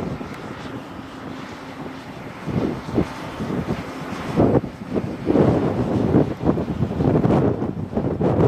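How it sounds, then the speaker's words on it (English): Gusty wind buffets the microphone, rumbling low and rising in strong bursts toward the end, with no voices. "it's very, very windy"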